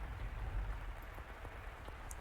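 Rain falling in a dark visual-novel scene, a soft steady patter on the ground with scattered individual drops, faint and continuous with low rumbling underneath.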